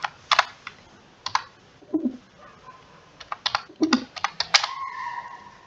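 Java code being typed on a computer keyboard, close irregular bursts of key clicks with short pauses between them, a few heavier taps and a faint tone near the end.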